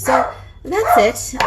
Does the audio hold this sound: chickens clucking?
no